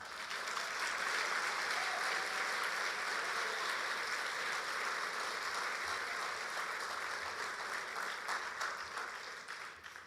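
Loud, continuous applause from a church congregation during a Sunday service, many hands clapping together in a thick, even roar that tapers off near the end.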